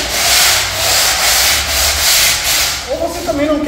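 A plaster wall being hand-sanded with a wooden block, a steady close scraping rub in long continuous strokes, loud and alone, ending with a brief squeaky scrape.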